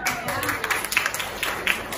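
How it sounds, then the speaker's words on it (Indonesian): A classroom audience claps for a student's pretest score during a civics lesson. The claps are scattered and uneven, moderately close, mixed with chatter from the group. "Tepuk tangan ya."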